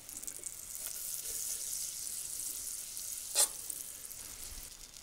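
Butter melting in a small saucepan on a camp stove, a faint continuous hiss with one sharp clink or scrape midway, no talking.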